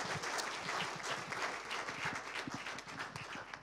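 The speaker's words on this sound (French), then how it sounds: "On peut applaudir donc Benoît Bécher." An audience at a wine industry conference applauds steadily, a dense, continuous patter of many hands clapping in a hall, sustained throughout with no speech over it.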